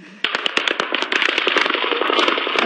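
Rapid gunfire at an outdoor country music festival, mistaken at first for firecrackers, a dense run of sharp cracking bursts with many shots per second, loud and continuous.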